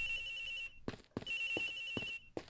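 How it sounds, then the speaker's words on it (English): A cell phone rings from inside a locker in the video game Ace Attorney Investigations: Miles Edgeworth, a steady electronic ringtone in two long bursts broken by short gaps, with brief game voice blips in between. "The ringing's coming from in here, sir."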